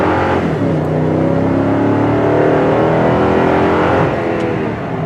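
A 2016 Toyota Tundra 1794 4x4 double cab's engine accelerating hard, a loud, close roar that climbs steadily in pitch, eases briefly as it shifts, then rises again without any talking.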